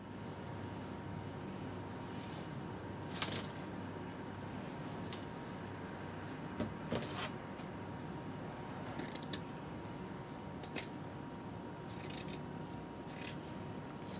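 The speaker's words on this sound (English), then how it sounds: "since this is going to require cutting anyway, I'm going to take away the overlocking seam." Scissors snip away an overlocked seam on a wedding suit during alterations, producing faint, sparse clicks and small cuts over a steady room hiss, with no talking.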